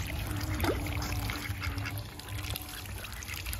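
Ducks quack intermittently across a pond, over a constant watery rush and low background rumble.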